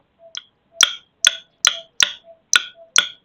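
A surgical hammer taps sharply during lumbar spine surgery: seven crisp metallic strikes in a fairly even rhythm, close and distinct, each followed by a short ring, with a faint low tone between some blows.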